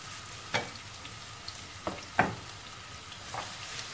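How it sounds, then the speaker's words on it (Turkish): Chopped onions hit hot oil in a pan for an oyster mushroom sauté, giving a steady low sizzle broken by a few sharp crackles and pops, close and moderately loud, with no talking. "Isınan yağımızın içerisine hemen doğradığımız soğanlarımızı"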